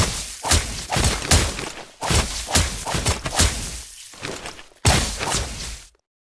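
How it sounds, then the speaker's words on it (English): Mobile Legends turret destruction plays out as a run of heavy crashing impacts and shattering bursts, loud and irregular, with whooshing hits before falling silent at the end. "Our turret has been destroyed."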